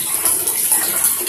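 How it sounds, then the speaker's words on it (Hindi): Water pouring from a drained geyser down into a bucket below, a steady close splashing gush with no talk over it. "आप आवाज़ सुन रहे होंगे पानी की, नीचे बाल्टी में गिरती"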